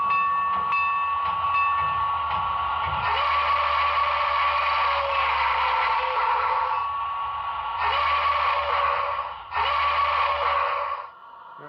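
A steady high whistle tone from an HO scale Milwaukee Road S3 steam locomotive model with Paragon 3 sound sounds in long sustained blasts with brief breaks, over a low mechanical hum.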